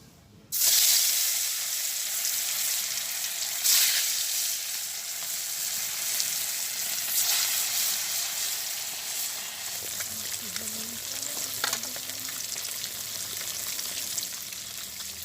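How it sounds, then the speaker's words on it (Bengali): Fish dropped into hot oil in a pan, a sudden loud sizzle that settles into a steady crackling fry with occasional pops, heard alone without talk. "তেল গরম হয়ে গেছে, আমি এখন মাছ দিয়ে দিচ্ছি।"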